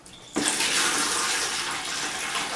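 A Toto Neorest 500 toilet flushes with a sudden loud rush of water that starts abruptly and then holds as a steady, close, full-bodied swirl and drain.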